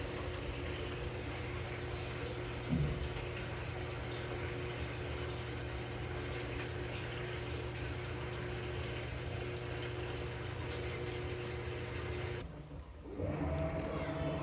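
A Samsung 7kg top-load inverter washing machine fills with water, a steady low gushing and pump hum that runs continuously before briefly dropping near the end.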